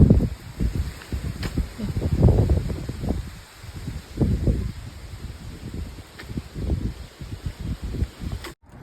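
Strong wind outdoors on an early-morning walk at 5 a.m., heard as gusty, uneven buffeting rumbles against the microphone that swell and fade throughout, with no voices.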